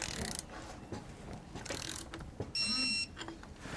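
Ratchet tightening sway bar bolts on a 2015 Coachmen Mirada motorhome during a Roadmaster rear anti-sway bar install, giving quick clicking bursts in a garage with a brief high electronic beep near the end.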